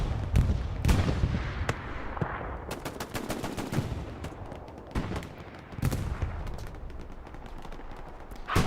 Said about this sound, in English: Bombing run over here on the front line.